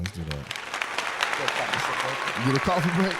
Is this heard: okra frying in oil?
no